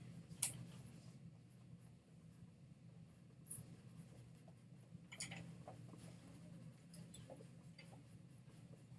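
A charcoal pencil shades a square on paper with faint, scratchy strokes, soft and close, with a few sharper scrapes and quiet room hum between, and no talking.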